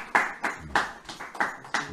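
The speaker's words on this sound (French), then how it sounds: "On applaudit le Seigneur." A church congregation claps hands in praise, sharp, evenly paced claps ringing out about every third of a second, close and fairly loud with nobody speaking.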